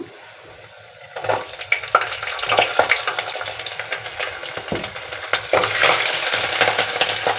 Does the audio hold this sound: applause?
no